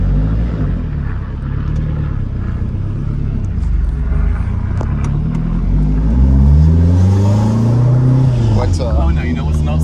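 A Maserati Shamal fitted with an aftermarket exhaust revs up close, its engine note rising and falling in a steady mid-pitched rumble while people talk over it.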